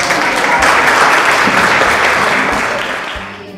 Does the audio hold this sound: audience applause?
yes